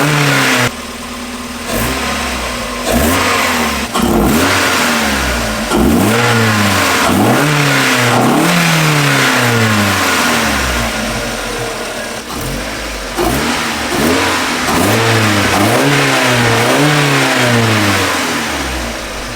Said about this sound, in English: now let's see how she sounds at startup and revs